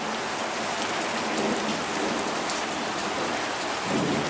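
Heavy rain pours steadily during a severe Midwest thunderstorm, a dense unbroken hiss of drops drumming on surfaces, with a low rumble of thunder swelling near the end; no one speaks.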